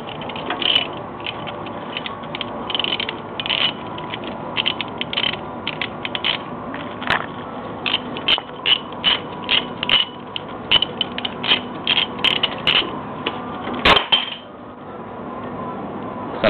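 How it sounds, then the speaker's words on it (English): A ratchet spins off the 22mm crank bolt of a Subaru 2.5 DOHC engine, rapid clicking bursts with metallic clinks, loud and close, running almost continuously. "You pull your holder tool out, you spin off the rest of the way, the crank bolt, 22mm bolt the rest of the way."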